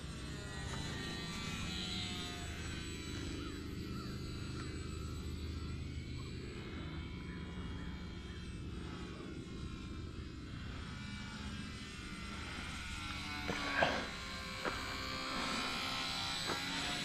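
A Sport Cub S 2 RC airplane flies low overhead, its small electric motor giving a steady, fairly loud buzz that swells and fades slightly as it passes, with no talking.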